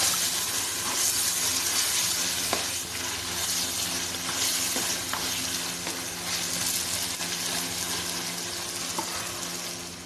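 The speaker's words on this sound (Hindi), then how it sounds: "कीमा शामिल कर दें और कीमे को मसाले में अच्छी तरह मिक्स करें।" Minced meat fries in a spiced tomato masala for a bitter gourd dish, with continuous loud sizzling and hissing and occasional scraping of a stirring spoon. No one talks.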